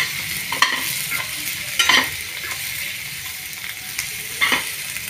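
Eggplant frying in a pan for a stuffed brinjal dish, giving a loud steady sizzle with several clattering stirs and spatula knocks at irregular intervals, close by and without speech.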